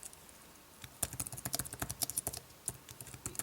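Rapid, uneven clicking of keys typed on a compact tablet keyboard case up close, with brief pauses between bursts.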